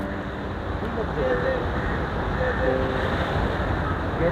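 Fast, rain-swollen floodwater rushes through the river headworks at Head Qadirabad, a steady, broad roar of water with wind buffeting the microphone throughout.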